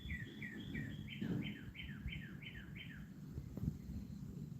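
A bird repeats a quick series of high, descending chirps, about eight in a row, over a low background rumble.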